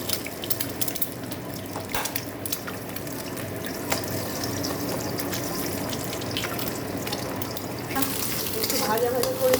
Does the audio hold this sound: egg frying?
yes